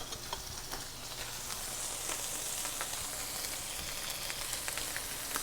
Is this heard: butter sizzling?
yes